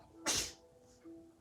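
A baby's single sharp sneeze, quick and breathy, close by in a quiet indoor room, followed by a faint soft sound afterward.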